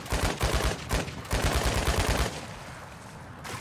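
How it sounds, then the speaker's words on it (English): Rapid bursts of automatic gunfire from another player in the video game DMZ, two loud volleys of quick shots separated by a brief pause, then fading into quieter background noise. "There's a player over there shooting at him."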